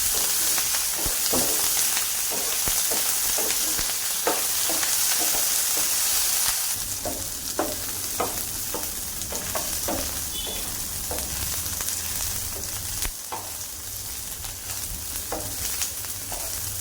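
Green chillies roasting in released oil in a pan for a spicy chilli relish, a loud continuous sizzle with repeated pops and spatula scrapes that grow busier partway through, no voices.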